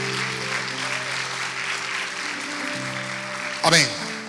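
Loud, sustained clapping from a church congregation with music playing underneath, and a brief sharp burst near the end.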